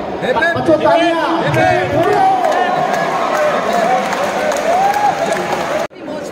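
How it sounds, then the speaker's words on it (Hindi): Children clap and cheer together at a badminton academy during a visit by a Thomas Cup 2022 winner. A dense, steady wash of applause mixed with high-pitched shouts and whoops continues throughout, then cuts off abruptly near the end. "बच्चों, तालियां।"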